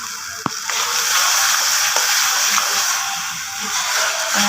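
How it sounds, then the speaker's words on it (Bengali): Masala spice paste, loosened with a splash of water, sizzles in a pan while being sautéed for an egg korma, making a steady, bright hiss, with a few soft clicks of stirring. "দিয়ে আমি মশলাটা ভালো করে একটু কষিয়ে দিচ্ছি"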